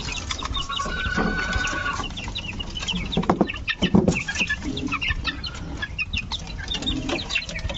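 Hatch and Sweater cross chickens clucking repeatedly nearby, a busy stream of calls with a few louder squawks in the middle, no talk.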